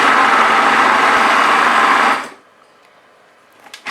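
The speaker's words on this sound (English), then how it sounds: "So I've blended this for 10 seconds" A blender whirs loudly and steadily through a vegan okara beetroot burger mixture, running about two seconds before cutting off abruptly into near silence.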